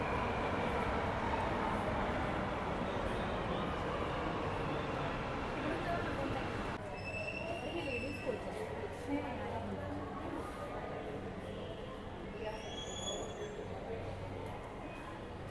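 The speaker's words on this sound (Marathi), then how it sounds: "हे बघा ट्रेन आली" A Mumbai Metro Line 3 Aqualine underground train arrives at the platform, a loud rumbling roar that eases into a lighter rolling hum with faint squeals, while people talk nearby.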